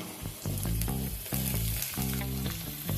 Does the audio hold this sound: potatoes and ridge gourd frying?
yes